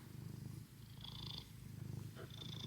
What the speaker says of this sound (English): I have a cat that's purring that refuses to leave my side